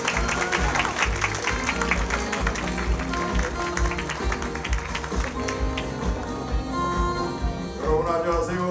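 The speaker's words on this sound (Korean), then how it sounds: "다시 한번 인천 은혜 박수를 보내주시기 바랍니다." Crowd applause at an Incheon United football fans' day event, a steady dense patter of clapping that fills the space, with music and indistinct voices mixed underneath.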